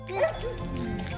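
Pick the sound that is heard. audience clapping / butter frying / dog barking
dog barking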